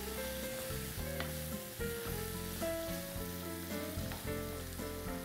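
Onion and meat fry in a pan with a steady, close sizzle, broken by a few stirring scrapes and no talk.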